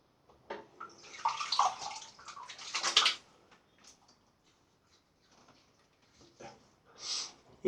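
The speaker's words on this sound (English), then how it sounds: "Very easy to rinse, this style of razor" Merkur Futur adjustable safety razor rinsed under running water, a close splashing burst rising over the first three seconds, then fading to quiet trickles and a brief final splash.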